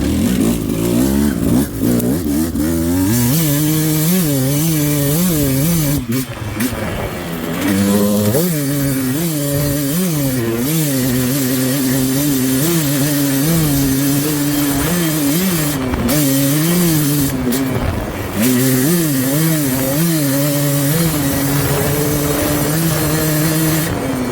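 A 2025 Beta 200 Race Edition two-stroke dirt bike with an RK head lugs along in third gear, its engine note rising and falling steadily and loudly with throttle changes for the whole stretch, no talking.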